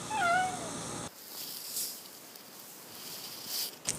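A cat meows once, a short rising cry up close, followed by quiet room noise with faint rustling.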